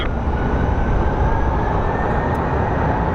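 A steady, loud jet roar from an Alaska Airlines Boeing 737 MAX 9 at Phoenix Sky Harbor International Airport, a continuous broadband rumble that holds even for the whole stretch.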